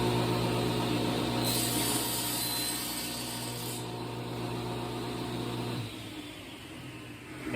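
A saw runs through a repeated cut held in a length stop, giving a steady, close grinding drone with a brief high whine partway through before the tone drops near the end.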